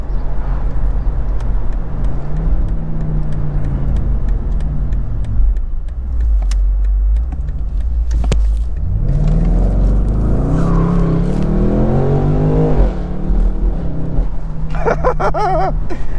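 A 2023 BMW M850i convertible V8 running loud and near on a back road, its engine note rising and falling through gear changes and hard acceleration, with a burble of exhaust crackle near the end.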